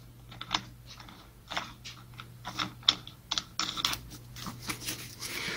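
A part being fitted onto an angle grinder spindle: close, irregular metallic clicks, ratcheting taps and small clanks spread over several seconds, with a low steady hum underneath and no talk.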